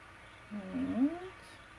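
A cat rummaging in art supplies gives a short, rising, moaning vocal sound close by, drawn out for under a second with faint background hiss around it.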